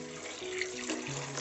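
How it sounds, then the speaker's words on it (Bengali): Water poured from a vessel onto lightly fried vegetables in a pot for chicken vegetable soup, a steady close splashing pour lasting the whole moment with no voices. "এবার এখানে আমি পরিমাণ মতো জল দিয়ে দিচ্ছি।"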